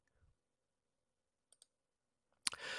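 A computer mouse gives two tiny soft clicks in near silence, followed a second later by a sharp click and a brief burst of louder noise.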